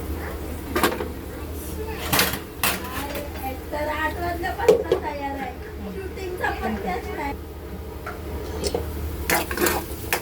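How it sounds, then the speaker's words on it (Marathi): A spoon stirs onion and tomato cooking in a pan for paneer bhurji, with intermittent scraping and clinking against the pan under steady talking. "चांगलं मिक्स करून घेऊया आणि 2 मिनटं कांदा टॅमॅटो वगैरे सर्व शिजू देऊया"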